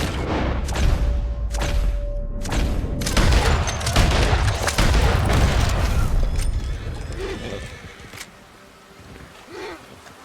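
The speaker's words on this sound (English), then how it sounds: "Shooting." Rapid gunfire in Red Dead Redemption 2, a burst of loud cracking shots followed by dense continuous firing and booming over a noisy game mix, fading near the end.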